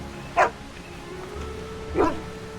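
A dog in Dragon Age: Origins barks twice, with sharp, loud single barks about a second and a half apart over a quiet background hum.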